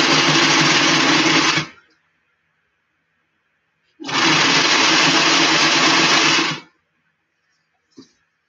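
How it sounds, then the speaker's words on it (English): Sewing machine lock-stitching fabric for an Ivy-style flat cap, two steady runs of rapid, even mechanical whirring and clatter separated by silence, then a single short click. "we'll lock stitch it down"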